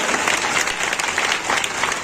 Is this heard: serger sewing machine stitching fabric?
no